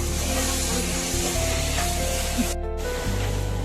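Chopped onion sizzles in a hot pan while being cooked for veg paneer-cheese momos. A steady, loud, continuous frying hiss runs throughout with no voices.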